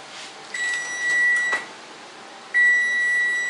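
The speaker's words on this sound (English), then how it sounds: "The timer just went off." Electronic oven timer beeping after a batch of peanut butter and jelly cupcakes finishes baking: a steady high tone sounds briefly, then a second longer beep follows, clear and close with no talking.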